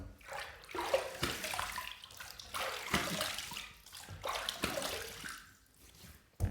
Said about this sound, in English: let me go ahead and rinse my fingers off here. I'm going to wet the face one more time.